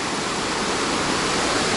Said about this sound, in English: Coming to another magnificent Iceland waterfall